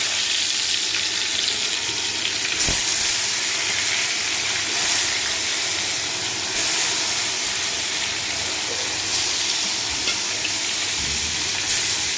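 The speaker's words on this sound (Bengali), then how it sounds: "এই যে এখানটা আমি পোয়া মাছ ভেজে নিব, তেল গরম করে নিচ্ছি। এখন পোয়া মাছগুলো দিয়ে দিই।" Poa fish frying in hot oil, giving a steady, fairly loud sizzle that holds evenly throughout with no voices.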